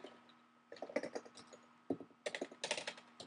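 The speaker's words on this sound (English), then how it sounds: "So I'm going to type in my Moodle site" Typing on a computer keyboard entering a web address, quiet close key clicks in irregular bursts with a brief pause between runs, alone without speech.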